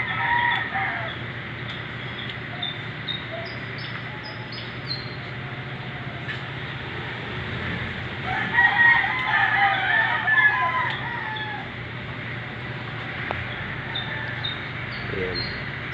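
Three large birds call from a tree in front of a house, steady crowing and clucking calls over constant outdoor background noise, with a louder burst midway.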